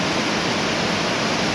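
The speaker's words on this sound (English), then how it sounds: "It's pouring rain." Heavy pouring rain outside a garage, a loud, unbroken wash of hiss with no gaps or individual drops standing out.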